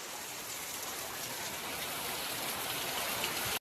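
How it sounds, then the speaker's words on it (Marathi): Steady, heavy monsoon rain in Konkan pours down continuously, a dense even hiss of drops drumming on surfaces with no letup. "याला म्हणतात पावसाचा जोर."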